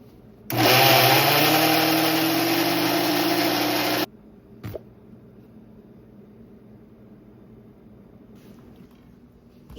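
Spice paste of jaggery, salt and turmeric with water is blended in a kitchen mixer grinder: a loud, steady motor whine runs for about three and a half seconds, then cuts off, leaving a quiet room with a faint knock.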